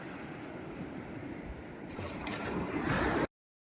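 Steady wash of sea waves at high tide rushing and surging, building slightly louder toward the end before an abrupt stop.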